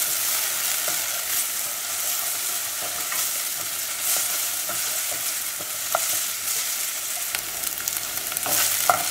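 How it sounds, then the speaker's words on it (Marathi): Ginger garlic paste frying with onions in a pan while being stirred, giving a steady, loud, close sizzle with occasional scraping of the spoon and no talking. "जिंजर गार्लिक फ्राय झाली"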